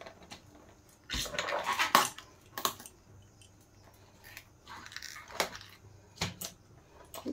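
Banana flower being handled and cleaned in a kitchen, with short bursts of wet rustling and clattering spaced across the clip, loudest near the start, then quieter intermittent handling noises.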